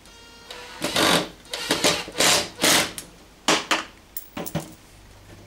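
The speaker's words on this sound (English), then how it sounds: "He's just going to screw in the base to hold that nice and secure." An 8-gauge wood screw with a small washer is driven into a wooden base, giving a series of short whirring and grinding bursts separated by brief pauses, close and fairly loud.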